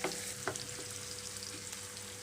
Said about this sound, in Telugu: ఇక్కడ మనకి ఉల్లిపాయ ముక్కలు బాగా వేగిపోవాలండి